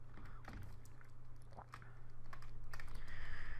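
Computer keyboard keys are tapped in a quick irregular run of light clicks, close and fairly quiet over a low background hum.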